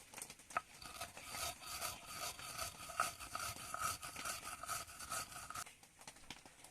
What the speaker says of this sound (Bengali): এক চামচ চিনি নিয়েছি, আর চিনিটাকেও আমি বেটে নিব মিহি করে।